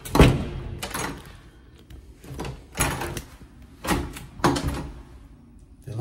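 A locked bathroom door at a wedding venue is tried repeatedly, giving a series of sharp knocks, rattles and thumps at irregular intervals, close and fairly loud, with quiet gaps between the jolts.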